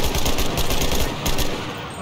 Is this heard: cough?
no